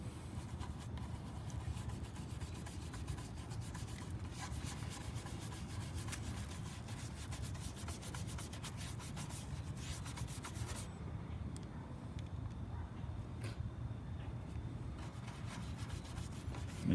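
A toothbrush with toothpaste scrubbing a car headlight lens, a steady continuous rubbing and brushing texture throughout, close and fairly quiet with no voices.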